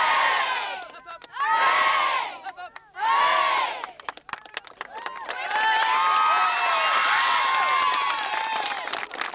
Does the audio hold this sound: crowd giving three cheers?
yes